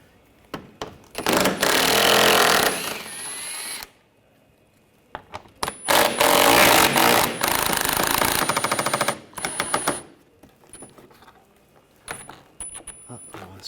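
A ratchet with a 10mm socket spins bolts out on a Honda Pilot V6, producing loud, rapid clicking and buzzing bursts separated by short silences, close up.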